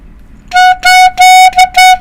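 A clarinet sounds a bright, buzzy note in five short bursts of varying length, close and loud with no voices.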